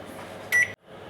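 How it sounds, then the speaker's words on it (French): An 800-watt microwave oven hums steadily on full power while melting butter, then gives a short electronic beep as it stops, leaving a fainter hum behind. "Alors maintenant je vais faire fondre au micro-ondes."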